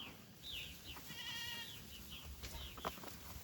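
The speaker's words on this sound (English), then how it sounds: "This is called a myotonic goat, or either fainting goat." Myotonic fainting goats bleat in several wavering calls, one long quavering bleat standing out loudly in the middle between shorter, fainter cries, with no talking.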